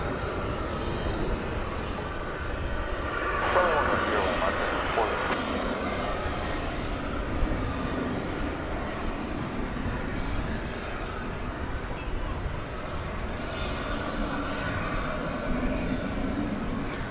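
Jet airliner engines at DFW Airport at night, with a Qantas jet nearby, make a steady, broad roar that swells slightly and then holds, heard from a distance across the airfield.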